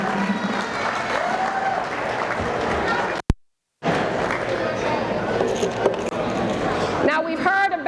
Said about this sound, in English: we want to give a hand clap for our volunteers, Henry Box Brown and Queenie Kilt.